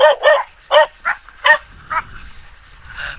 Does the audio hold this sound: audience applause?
no